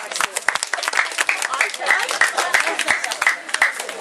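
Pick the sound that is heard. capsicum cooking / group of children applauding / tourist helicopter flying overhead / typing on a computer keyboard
group of children applauding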